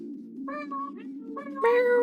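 A house cat meows close by, a couple of drawn-out, wavering meows over a low steady background hum, the last one rising louder and longer.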